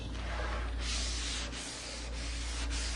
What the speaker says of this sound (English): when I say scuff this, I'm just wiping